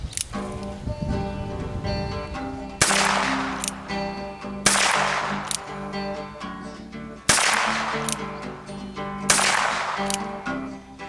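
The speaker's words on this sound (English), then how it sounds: "Maybe I'm not so good shooting single-handed with this one." Ruger single-action revolver fired one-handed at a 7-yard target: four sharp, loud shots spaced roughly two seconds apart, each cracking and then ringing down, over a quiet outdoor background with no talk.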